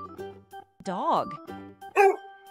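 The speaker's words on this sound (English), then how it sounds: "Next, dog." A single dog's bark and yelping whine, several short loud bursts close by with brief gaps, standing alone with no talk over it.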